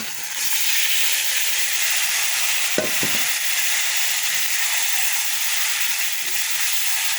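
Marinated meat dropped into a pan of fried onions sets off a loud, steady sizzle and hiss, with a brief clatter of a utensil midway and no talking.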